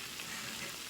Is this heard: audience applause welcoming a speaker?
no